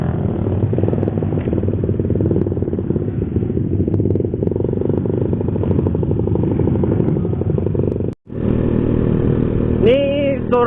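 Several motorcycles ride together on a group tour toward Pacitan. A loud, steady engine drone runs throughout, cuts out briefly near the end, then returns with rising revs.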